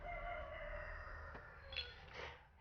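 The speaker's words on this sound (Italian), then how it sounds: "Queste galline se non finiscono di..." A rooster crows at a moderate distance near an abandoned pool in Quartu Sant'Elena, its drawn-out call followed by a couple of shorter clucking or crowing bursts from hens.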